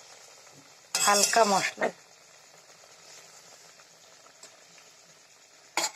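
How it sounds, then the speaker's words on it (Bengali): Rohu fish curry broth poured into a hot tempering of cumin, chilli and ginger bubbles with a soft, low, steady sizzle close by. Someone speaks briefly near the start and a faint clink comes near the end. "মাছের ঝোলটা আমি ঢেলে দিলাম ফোড়নে"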